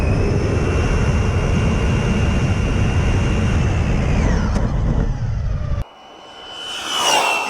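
A fast 1/8 scale 4S RC car gives a loud high-pitched electric motor whine that holds and then falls as the car passes. It cuts out abruptly and then builds again.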